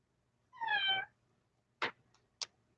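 A cat gives one clear, moderately loud meow, followed after a pause by a few brief, sharp clicks or taps.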